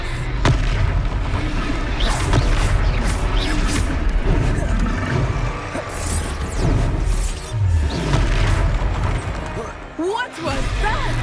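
Spell cast of Expelliarmus in the video game Hogwarts Legacy, heard as a loud booming magical blast with rumbling low impacts and bright crackling bursts during a battle, with voices talking over it.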